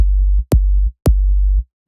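Two deep, booming trap 808 kicks, built from a sampled glass bottle and shaped with EQ and a vocoder, each opening with a sharp click and holding a long sub-bass tail before cutting off cleanly.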